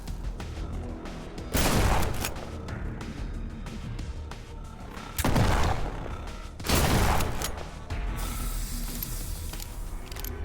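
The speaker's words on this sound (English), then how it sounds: "Okay, gunshots." Bursts of gunfire from the horror video game In Sound Mind, three loud volleys of rapid shots with hissing tails, separated by quieter stretches of ambient noise and mechanical clatter, no talking.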